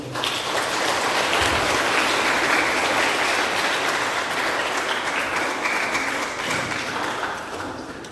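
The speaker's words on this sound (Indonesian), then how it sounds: "Kita beri aplaus" A church congregation at an Easter Sunday Mass applauds the organizing committee, with dense, sustained clapping from many hands that fills the space at an even level before easing slightly toward the end.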